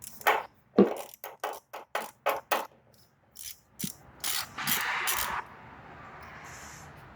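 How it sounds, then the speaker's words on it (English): Ratchet wrench clicks on downpipe bolts of a Ford F-150, a close run of quick, evenly spaced ratcheting bursts, then a few heavier clacks and a fading mechanical rattle. "We got the downpipe bolts unbolted."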